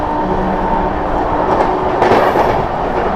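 The Mau–Anand Vihar Terminal superfast express (22539) rumbles past the Magadh Express while overtaking, a loud, close, continuous roar of wheels and carriages with no voices.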